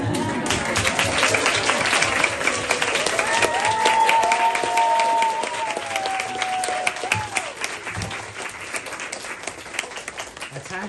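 An audience claps and cheers to encourage a woman named Atashee before she reads aloud, steady applause with scattered whoops and shouted voices, fading to thinner, uneven claps in the last seconds.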